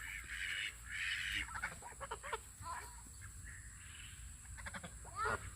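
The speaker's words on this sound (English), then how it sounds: "I'm curious what these geese will do." Geese honking on a farm, in repeated short calls scattered through the stretch and mostly moderate to faint against steady outdoor background noise, with a louder burst near the end.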